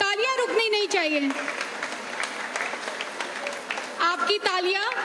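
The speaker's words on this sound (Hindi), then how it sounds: "जोरदार तालियां रुकनी नहीं चाहिए।" An audience claps loudly at a school cultural program, the applause continuing throughout while a voice speaks over it.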